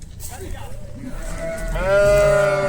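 Sheep just unloaded from a vehicle bleat nearby, a few short calls early on and then one loud, drawn-out wavering bleat, with voices faintly in the background.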